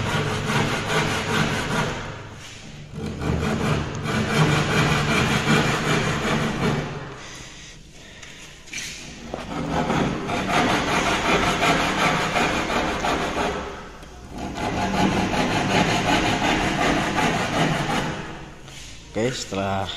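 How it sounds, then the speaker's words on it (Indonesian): Thin hand saw cutting wood to make a recess for a door hinge, with rhythmic rasping strokes close by and a few short pauses between runs of cuts. "Ini gergajinya pakai gergaji yang tipis ya, biar lubangnya enggak kamban."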